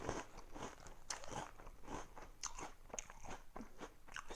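Someone chewing sweet cereal with berries, eaten from a cereal cup: close, steady crunching and biting that repeats in quick, uneven bites.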